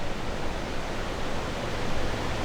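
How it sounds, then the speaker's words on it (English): A mountain stream near Grimsel Pass in the Alps flows steadily, a dense, even rush of water heard close and alone with no voices. "apart from a nice soothing sound of the stream"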